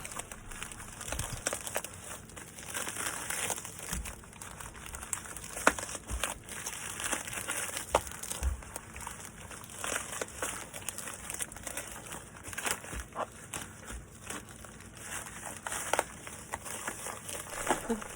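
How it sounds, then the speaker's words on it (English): A bubble-wrapped package being forced into a flat rate shipping envelope gives steady crinkling and crumpling of plastic and paper, close and persistent, with occasional sharper rustles. "bubble wrap makes it so hard to fit into these envelopes"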